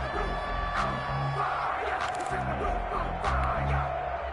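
American football video game crowd giving steady applause and cheering, with a low, continuous stadium roar under a muffled, pulsing bass beat.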